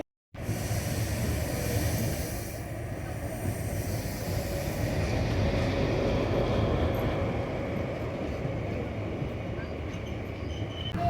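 The Kamakhya–Gaya Express leaves Kokrajhar station and gets under way, a continuous loud interior rumble of wheels and carriages heard from on board, with faint voices in the background.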